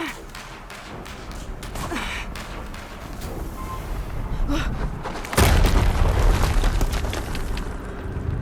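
A loud explosion in Horizon Zero Dawn erupts about five seconds in, a sudden broadband blast that rolls on as a sustained rumble over ongoing game noise.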